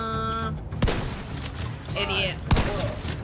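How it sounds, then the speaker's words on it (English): Shotgun blasts in The Division 2, two sharp booming shots spaced apart over game sounds and someone talking. "Shotguns."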